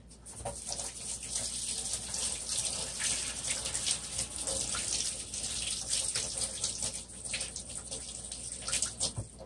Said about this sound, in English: rinse the fingers off real quick